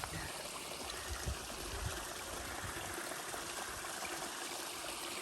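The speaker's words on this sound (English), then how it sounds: "There's a waterfall going off the side of the trail." Steady broadband rush of a waterfall beside an Appalachian Trail hiking path, a continuous close wash of falling water with no talk.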